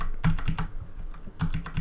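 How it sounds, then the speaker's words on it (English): Fingers tap a computer keyboard in a quick, uneven run of soft, close keystrokes, with a short pause partway through; no one speaks. "So I'm going to type"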